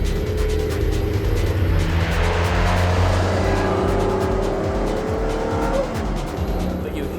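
A Noble M400 sports car driving hard, its engine roaring loud and steady with rising and falling revs and tire noise throughout, close and continuous, with a faint voice in the background.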